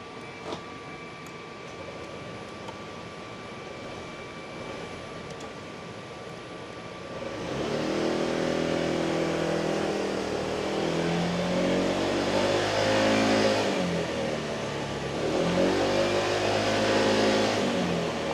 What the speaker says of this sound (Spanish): vamos a encender todo, la moto está prácticamente ya caliente y empezamos la prueba